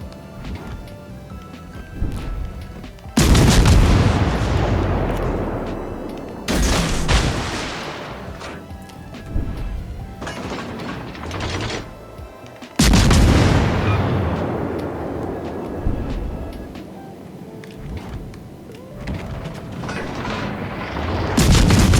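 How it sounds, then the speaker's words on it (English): Shellfire from a Dunkerque ship in the naval video game World of Warships, with several loud, heavy booms and crashing impacts in separate bursts, each followed by a rumbling decay. Quieter stretches between the blasts, no talking. "Oh shit, the Dunkerque is shooting at us again"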